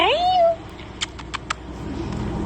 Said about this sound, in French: Il y a juste le petit chat, là.